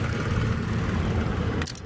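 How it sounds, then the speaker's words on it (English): A 2016 Toyota Tacoma truck engine runs at a steady idle, a continuous broadband rumble close by, with a brief change in the noise right at the end. "I was just confirming I've got the truck running"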